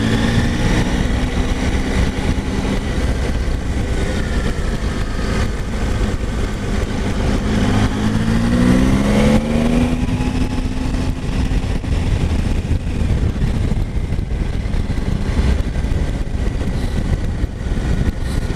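A 2019 Triumph Tiger 800 XR A2-version motorcycle engine hums steadily while riding, a continuous loud drone with smooth rising and falling pitch and wind noise, no talking.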